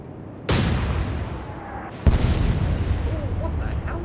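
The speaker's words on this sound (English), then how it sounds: "A couple of shots in the waterline." Naval gunfire strikes a ship's waterline in the naval strategy game Atlantic Fleet, two heavy booming shell impacts with a deep rumbling tail, loud and close.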